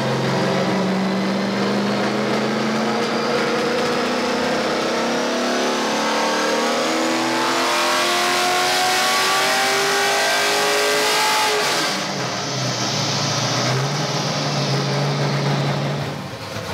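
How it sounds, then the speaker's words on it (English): A car engine on a dyno is walked up to high RPM in a long, loud, continuous rising rev, with the pitch climbing steadily before the throttle lifts near the end and the engine drops back to a lower drone. "taking some runs on the dyno. You're just kind of walking the motor up to the higher RPMs"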